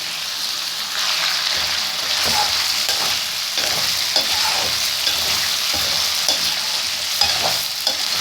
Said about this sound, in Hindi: तेल में फ्राई होने देंगे चिकन को